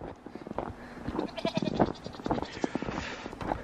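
Goats in a snowy farmyard bleat close by in a rapid run of short, overlapping calls, with a few soft thumps and rustles among them.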